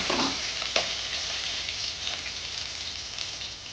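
Bay leaf, green chilli and cumin sizzle in hot oil in a pan, giving a steady close crackle with a brief sharp spatter as the spices are stirred.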